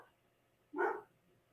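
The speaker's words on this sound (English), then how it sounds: "A dog heard me talking just now. Decided she's going to bark." A single short dog bark sounds once at a moderate distance, brief and clear against a quiet room hum.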